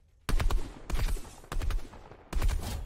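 Bursts of rapid automatic gunfire from the video game Fortnite, four loud close volleys in quick succession with brief gaps between them.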